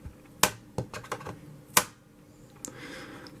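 Chromebook keys pressed through a 3D printed plastic keyguard give a quick run of close, crisp clicks and taps, with a couple of louder snaps spaced irregularly, then a light rustle at the end.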